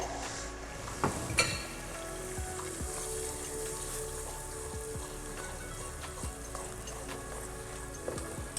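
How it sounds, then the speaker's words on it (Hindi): Tomato paste from about three tomatoes cooking in butter for butter chicken, a soft continuous sizzle with a few light stirring knocks near the start, fairly quiet and without talk. "अब हम इसको भुनने तक पकाएंगे, जब तक इसका तेल ऊपर नहीं आ जाता, बटर ऊपर नहीं आ जाता।"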